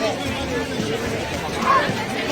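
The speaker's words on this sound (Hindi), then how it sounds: "कितनी भीड़ है यहाँ" Crowd chatter at the Taj Mahal in Agra, a dense murmur of many voices close around, with one nearer voice talking over the babble.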